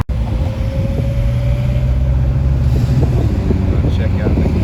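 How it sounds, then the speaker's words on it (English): A Kenworth T610 SAR truck rolls past on the Cumberland Highway near Sydney, a loud, steady low engine drone with wind buffeting the microphone. "Check out the Kenworth."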